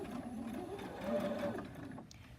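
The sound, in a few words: sewing machine stitching fabric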